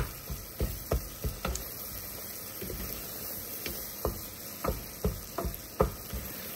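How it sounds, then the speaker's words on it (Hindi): Masala frying on medium heat in a home kitchen for a fried brain and onion dish, a soft steady sizzle broken by sharp, irregular spoon clicks and taps against the pan. "ये देखिए हमारा मसाला अच्छे से भुन रहा है अभी, और इसको हमने मीडियम आंच में भूनना है"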